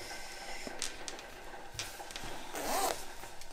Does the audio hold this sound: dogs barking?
no